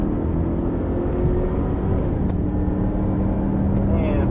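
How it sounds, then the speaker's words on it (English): A Cadillac CTS-V accelerates out of a corner on a race track at Autobahn Country Club, a steady engine roar heard from inside the car under continuous talk. "squeezing on the throttle and accelerate off the corner"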